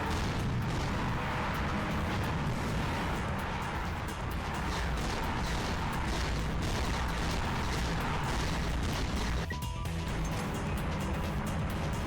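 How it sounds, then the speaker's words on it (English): Blitz gun firing in Ratchet and Clank: Going Commando during a fight with a Megapede, heard as dense, continuous blasts and mechanical clatter packed under steady game noise with no pauses. "I might try the Blitz gun, actually."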